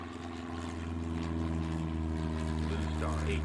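Steady airplane engine drone from the video game Airport Madness World Edition, building gradually in loudness, a low powerful hum with whining overtones, as if an aircraft is spooling up for takeoff.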